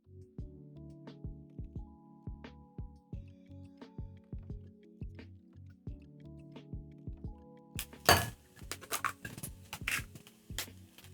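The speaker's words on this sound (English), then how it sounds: "I'm going to crack in my five eggs" Five eggs cracked into a bowl for a breakfast taco meal: a few sharp cracking and splatting bursts arrive close together near the end, following a stretch of steady background music.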